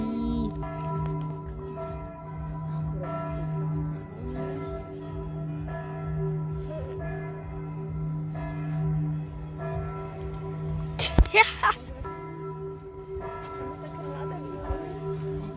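A church bell rings at noon in the town of Trnava, a steady tolling held through most of the stretch under outdoor ambience and occasional nearby voices, with a brief louder clatter toward the end.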